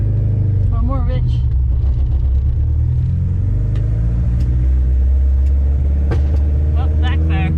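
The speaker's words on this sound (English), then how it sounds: "Oh, backfire. Maybe a little too rich." A carbureted Honda CRX engine running rich rumbles loud and close, with a few sharp backfire pops near the end and a voice talking over it.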